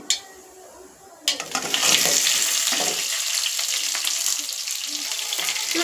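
Onions hit hot oil with mustard seeds and curry leaves after a quiet start, bursting into a loud, steady sizzle and crackle that holds for the rest of the clip with faint stirring.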